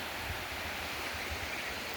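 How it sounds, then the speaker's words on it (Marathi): Small waterfalls on the Agashiv hills near Karad in the monsoon season pour in a steady, even rush of falling water, heard alone with no voices. "असे अनेक छोटे मोठे धबधबे आहेत इकडे"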